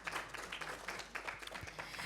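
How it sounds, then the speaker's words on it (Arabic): Audience applause at a press forum on dialogue between civilizations, with a steady wash of clapping from a hall that holds moderately loud throughout and brief louder bursts. "يحتاج لهم تصفيق رجاء المجموعة هذه"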